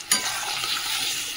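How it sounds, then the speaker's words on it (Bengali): Ginger-garlic paste stirred and frying in hot oil, a steady close sizzle with a sharp scrape at the start, continuous and fairly loud without any voices. "আদা রসুন বাটা একসাথে দিয়ে দিলাম, দিয়ে একটু তেলে নেড়ে নিই"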